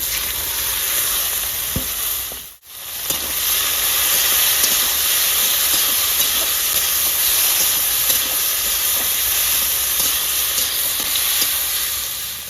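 Chopped onion sizzles loudly in hot oil with dried red chillies, whole cumin, black cumin and a bay leaf in a rustic village kitchen, a dense continuous frying hiss held close throughout with one momentary dip.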